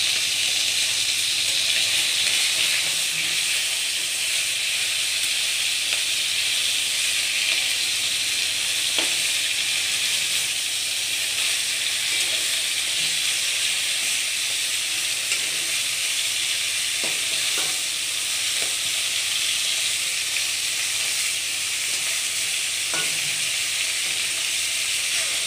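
Fish frying in a pan for a potato fish curry gives a steady, continuous hissing sizzle close up, with faint occasional pops and no voices.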